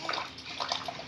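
A child splashing water in a bucket used as a small pool, with bright, irregular sloshes and slaps of water close by and no talking.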